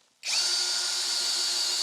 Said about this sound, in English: I'm just drilling into the stud.